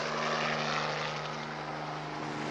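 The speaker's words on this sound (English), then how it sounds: "Just holding here for a few minutes to test the rotor" A helicopter hovers in place while its rotor is tested, giving a steady, loud, droning engine and rotor hum with no voices.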